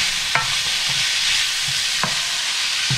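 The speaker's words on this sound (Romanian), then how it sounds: "Și acum prăjim până se moaie prazul." Minced meat and leeks frying in a pan for spaghetti: a steady close sizzle with a few soft scraping stirs of a utensil, no talking.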